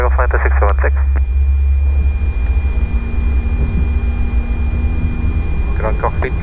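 Lion Air Airbus A330-900 airliner on the runway at takeoff, a loud low engine roar and rumble throughout, with cockpit radio chatter and voices over it at the start and end.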